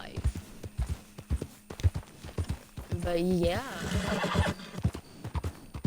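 A horse in the video game Red Dead Redemption 2 trots with a steady clip-clop of hooves and lets out a short whinny partway through, while someone talks over the game sounds.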